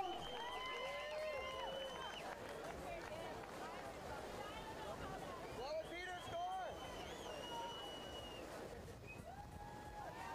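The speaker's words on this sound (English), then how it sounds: "Let's all cheer for him real loud as he drops in for his semifinal round" A crowd cheers at a canoe freestyle world championship as a kayaker drops in for a semifinal run, a continuous roar of cheering and whistles with voices mixed through it, steady and fairly distant.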